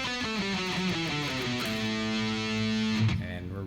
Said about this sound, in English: So that going down without stopping will sound like this.